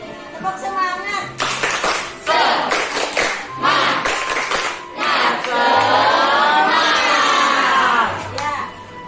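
Schoolchildren at SDN Kebayoran Lama Selatan 11 in Jakarta perform a rhythmic spirit clap, sharp patterned bursts of clapping alternating with shouted chanting voices, loud and close, ending in a sustained collective yell.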